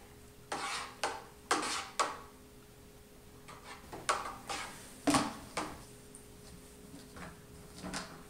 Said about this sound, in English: We need to give it a quick stir